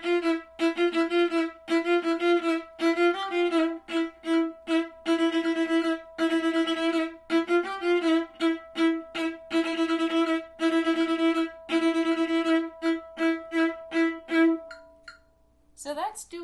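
Solo viola playing bars 77 to 93 of a Pirates of the Caribbean medley for string orchestra at a brisk tempo, with bright, bowed, driving repeated notes and accented phrases, close and clear, ending on a short held note.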